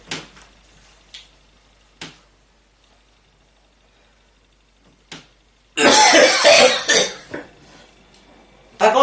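A few sharp single coughs spaced apart, then a burst of loud, harsh coughing fits close by, with quiet gaps between.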